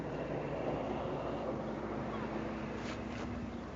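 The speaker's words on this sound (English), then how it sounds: "Why did the wind have to blow at the last minute?" Steady outdoor wind roars and buffets the microphone throughout, a continuous broadband rush with no speech.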